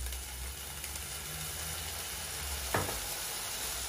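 Chicken breast sizzles steadily in a pan as a little sauce is added, a soft constant crackle with a low hum beneath and one brief sharper hiss near the end.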